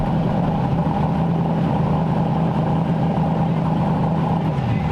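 A twin-turbo Chevrolet Vega's engine idles slightly high, steadily, with a constant low rumble and hum, unchanging throughout, with no voices.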